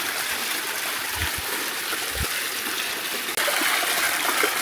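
Water streams steadily down from a height on the Sri Pada (Adam's Peak) mountain trail after a landslide, making a continuous rushing wash with a couple of faint low thumps and no voices.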